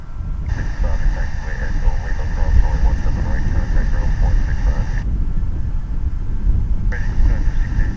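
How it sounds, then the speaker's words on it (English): An American Airlines Boeing Dreamliner jet at DFW airport, a continuous loud engine roar with a high whine that cuts out and returns, heard under talk. "Right behind it is going to be the American Dreamliner headed to"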